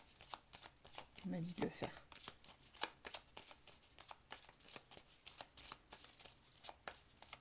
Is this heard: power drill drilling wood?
no